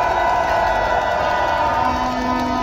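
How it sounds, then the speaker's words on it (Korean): A rally crowd at a Seoul candlelight protest cheers and applauds steadily, a dense continuous roar of voices and clapping that stays loud throughout with no pause. "우리 시민 여러분들을 위해서 큰 박수 부탁드립니다."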